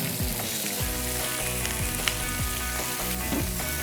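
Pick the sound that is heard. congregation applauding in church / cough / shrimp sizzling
shrimp sizzling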